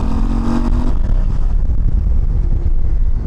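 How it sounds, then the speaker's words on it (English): A Harley-Davidson CVO ST motorcycle being ridden, its engine a loud, steady low rumble with rushing wind noise, close and continuous. "I'm really enjoying riding this bike."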